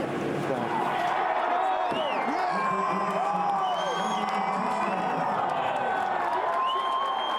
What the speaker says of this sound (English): he received a big ovation